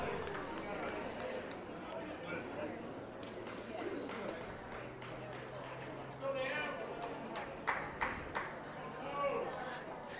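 Crowd chatter at a high school baseball game between Catholic and Little Rock Central at Lamar Porter field, a steady murmur of distant voices with occasional sharp knocks and claps, under a commentator's voice.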